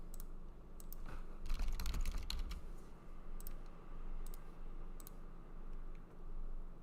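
Fast typing on a computer keyboard, bursts of close, crisp key clicks alternating with short pauses over a low steady hum.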